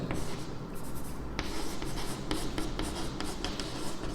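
Steady scratching of a marker or pen across a board or paper during a maths lesson, a continuous close rubbing texture with short strokes and taps, no talk over it.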